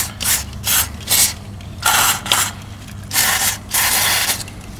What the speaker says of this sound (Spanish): ahí estamos aflojando el tornillo